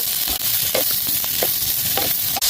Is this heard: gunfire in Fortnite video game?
no